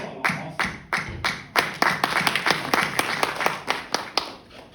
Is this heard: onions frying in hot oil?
no